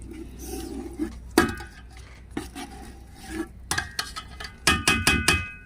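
Fried pakoras and potatoes go into a pot of simmering Pakistani dabba-style kadhi, with metal spoon clinks and scraping against the pan, a few soft splashes, and quicker clattering strikes toward the end.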